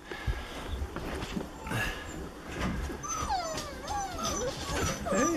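Puppies whimper and yip in thin, wavering high cries, several overlapping close by, with faint soft rustling and murmuring beneath.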